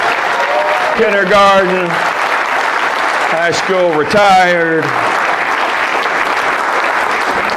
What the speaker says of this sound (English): Clap for all these educators among your midst.